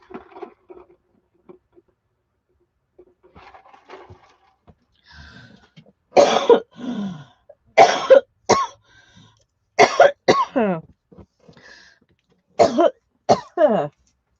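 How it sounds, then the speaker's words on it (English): A person coughs in a series of sharp bursts, quiet rustling at first, then loud coughs in clusters of two or three, close to the microphone. "I feel like I'm going to cough"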